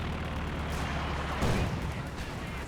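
Heavy .50 cal machine gun fire in Company of Heroes 2 rumbles as a dense, continuous low roar, with a stronger burst midway through a short stretch of battle noise.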